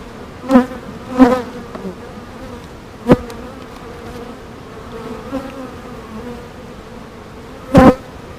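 Honey bees at an open hive drone in a steady buzzing hum throughout, with a few louder close buzzes as individual bees pass near.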